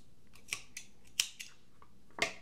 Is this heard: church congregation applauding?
no